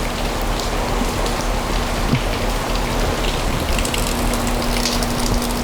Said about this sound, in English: It's raining pretty bad too. We're getting soaked out here.